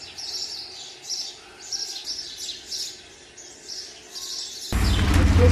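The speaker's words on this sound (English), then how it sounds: "I feel so relaxed with the sound of the birds" Morning birdsong outdoors in Luxor, Egypt: repeated high chirps and tweets in bursts throughout, fairly light, ending in a sudden loud rush of noise near the close.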